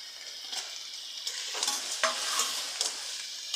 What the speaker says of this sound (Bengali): এবার আমি দিয়ে দিচ্ছি আলু এবার দিয়ে দিচ্ছি পনির